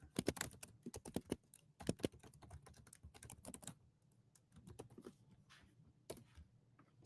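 Rapid typing on a computer keyboard while writing a reply to a client, with dense bursts of clicky keystrokes that thin into sparser taps toward the end, close and fairly quiet with no talking.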